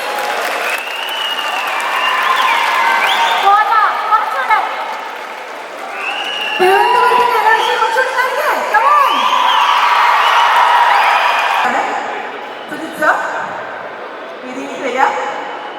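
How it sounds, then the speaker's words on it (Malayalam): A large audience at a film event claps loudly and cheers with whoops and shouts, swelling and fading in waves, while a host's amplified voice talks over parts of it. "ഒരു വലിയ കൈയടി പ്ലീസ്"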